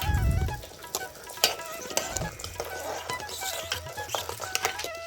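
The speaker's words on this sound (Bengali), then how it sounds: "তো এইদিকে চা হচ্ছে আর এইদিকে উনানে ভাত ফুটছে।" Rice boiling in a pot on a clay stove, with tea brewing on the other side, makes a steady bubbling sizzle dotted with small clicks and taps. It is close and moderately loud, with no one speaking.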